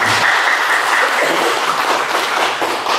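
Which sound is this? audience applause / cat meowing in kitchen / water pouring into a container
audience applause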